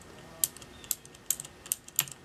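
Soft, sparse clicks of Corsair Cherry MX Blue mechanical keyboard switches pressed lightly without bottoming out, about six light taps spaced out over a quiet hiss, faint and close.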